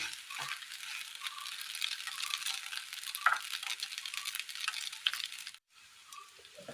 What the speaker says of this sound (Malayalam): ഉണക്കമുളക് ചതച്ചത് മിക്സ് ചെയ്തെടുക്കാം